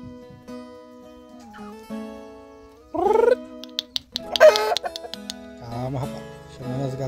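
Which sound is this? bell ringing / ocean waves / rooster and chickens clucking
rooster and chickens clucking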